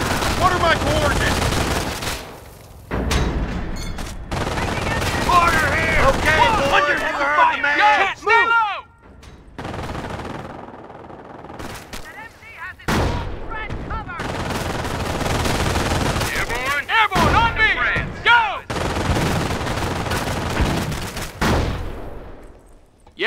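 Sustained machine gun bursts from a .30 cal squad in the Company of Heroes Normandy campaign at Carentan, loud rapid fire in repeated volleys with explosions and soldiers' voices shouting orders throughout.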